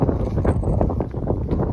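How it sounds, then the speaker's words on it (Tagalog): Strong wind buffeting the microphone, a continuous low roaring rumble that fills the whole moment. "Lakas ang hangin."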